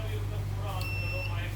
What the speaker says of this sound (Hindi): अगर आप मीटर को इस पे सेट करेंगे तो आपको बीप सुनाई देगी।